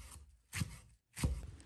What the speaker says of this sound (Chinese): 把芹菜叶子用刀切成小段